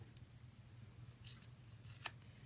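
Scissors snipping around an unmounted rubber stamp, a few faint, quiet crisp cuts near the end against a soft background hiss.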